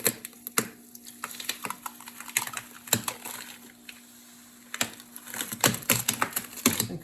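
A taped paper pattern is peeled off a router lift insert close by, giving dry crackling and sharp ticking bursts in irregular clusters with short quiet gaps between them.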